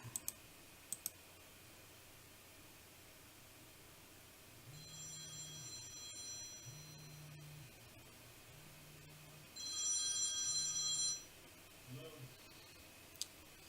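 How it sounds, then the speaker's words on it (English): An electronic telephone ring used as a film sound effect, sounding in four short bursts and then a brighter, louder trill, set against faint scattered clicks in a quiet room. "Maybe that phone is too loud."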